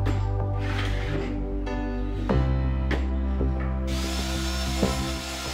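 A power drill whirs steadily with rising pitch, pauses briefly, then bites into wood again in short bursts, pre-drilling screw holes near board ends for a rabbit hutch, close and clear with no speech.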